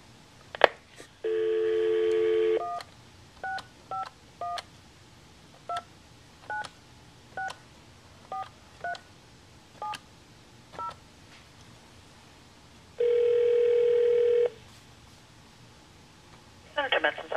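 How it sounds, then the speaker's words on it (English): Touch-tone keypad beeps from a telephone dialing a number, a rapid series of short tones, then two long ringback buzzes separated by a pause, heard clearly through the phone line. "Okay, so what we'll do is we'll dial up the number."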